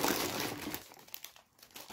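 Lulu Puffs snack bags crinkle and rustle up close as they are opened, a dense burst of crackling plastic that thins into scattered crinkles and then picks up again, with no speech.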